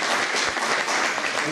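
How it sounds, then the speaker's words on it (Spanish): A church congregation gives brief, dense, steady applause for a man called up front, a short wash of clapping with no talking over it. "Un aplauso para Miguel."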